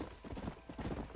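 Horse hooves clip-clop at a walking pace in the video game Red Dead Redemption, fairly close, with a low rumble underneath and no talking.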